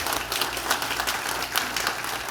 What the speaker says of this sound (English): give our supervisory committee members a round of applause.